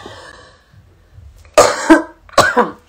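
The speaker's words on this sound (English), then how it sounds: "I gotta clear my throat" A person clears their throat twice, two short harsh bursts close to the microphone after a quiet stretch.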